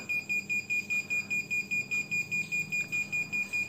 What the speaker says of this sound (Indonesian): alarm dari mesinnya itu berbunyi